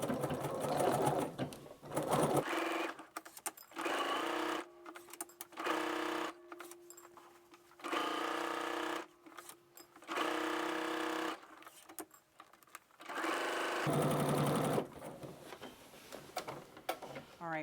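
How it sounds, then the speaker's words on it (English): Sewing machine stitching down a skirt seam in bursts of steady whirring, several runs separated by short pauses, close and loud with faint handling sounds between. "we're going to stitch down the rest of the skirt"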